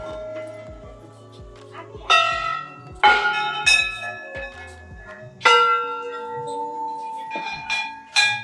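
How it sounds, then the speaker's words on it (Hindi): Metal temple bells ring out in separate strikes, several overlapping with long shimmering decays, some sharp and close, others softer between them, at Chitai Golu Devta Temple in Almora, hung with countless bells. "देखिए घंटियों का समंदर, millions of bells."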